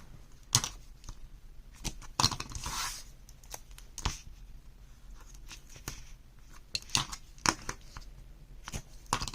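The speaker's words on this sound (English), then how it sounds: "now I'm going to apply tape on those 1/2 inch flaps" Adhesive tape pressed onto half-inch paper flaps while building a 6x6 photo mini album: soft crinkly tearing and sharp little clicks and rustles come in irregular bursts, faint and close, with quiet gaps between.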